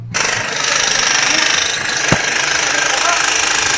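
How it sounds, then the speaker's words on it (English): A demolition hammer pounds concrete during a swimming pool build in Panglao, Bohol, Philippines, a loud, close, rapid continuous hammering that runs the whole time, with one sharp knock partway through. "Demo hammer, just trying to clear some of that out."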